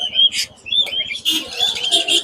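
Cockatiels and other caged birds at a winter-morning pet bird market in Mirpur 1, Dhaka, chirping in short, close, bright bursts with a soft pulsing coo underneath, no speech.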